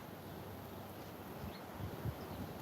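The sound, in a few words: wind outdoors without a microphone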